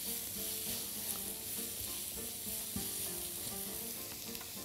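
Onions fry in a pan toward a golden color with a continuous, fairly quiet sizzle and bubbling, stirred now and then with a soft scrape, no talking.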